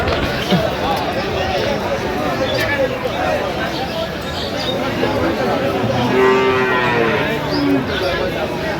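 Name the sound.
cattle mooing at a cattle market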